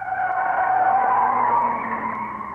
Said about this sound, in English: You put on the brakes to avoid a rear-end collision.